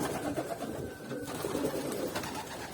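Ottoman Hünkari palace pigeons cooing in a loft, soft low murmuring coos running continuously through the clip with no talk.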